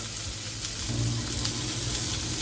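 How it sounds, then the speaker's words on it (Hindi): Chopped garlic and dried red chillies frying in a hot pan, a steady close sizzle with a brief stir partway through and no talking. "हॉट पैन, चॉप गार्लिक, साथ ही में ये ड्राइड रेड चिलीज।"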